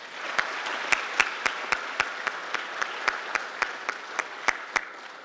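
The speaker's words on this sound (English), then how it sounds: "Let's again give her a round of applause." A short round of applause for an award recipient at an annual awards dinner, with steady clapping from the audience and a few sharper individual claps standing out, moderately loud and sustained throughout.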